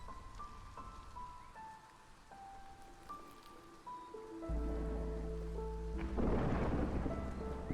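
Thunderstorm in the strategy game Against the Storm: a heavy rumble of thunder and dense rain swells in over background game music and tones, growing loudest toward the end, with no talk.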